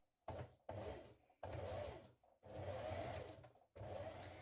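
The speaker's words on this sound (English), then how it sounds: "Now just top stitch around that outer edge to give it a neat finish." A sewing machine topstitches around the outer edge of a child's dungarees, running in five separate bursts of rapid, steady stitching with brief pauses between, close and clear.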